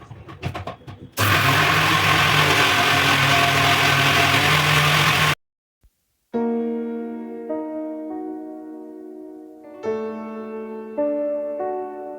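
An electric mixer grinder runs loud and steady for several seconds, grinding soaked rice and urad dal into dosa batter, then stops abruptly, followed by quieter tonal sounds.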